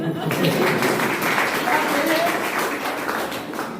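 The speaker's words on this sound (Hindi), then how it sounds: "जोरदार ताली।" Applause from an audience at a Hindi political-style speech event, a dense steady wash of clapping, moderately loud and continuous, with faint voices mixed in.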